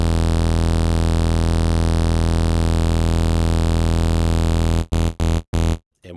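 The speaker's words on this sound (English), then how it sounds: "And now let's add a bit of white noise." A virtual analog synthesizer patch holds a steady, buzzy sustained tone with a layer of white noise hiss added over it. The sound plays loud and unbroken, then stutters through several abrupt cut-offs at the end.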